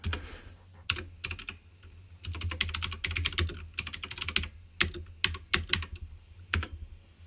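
Rapid keyboard typing in bursts of clicks, close by, with short pauses between runs of keystrokes and no talking.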